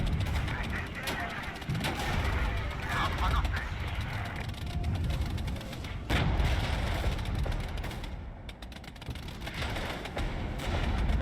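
Sustained gunfire pours onto a T-72 tank in the Regiments wargame, a dense, continuous crackle of shots and rumbling impacts with one sharper burst, while a voice talks over the barrage.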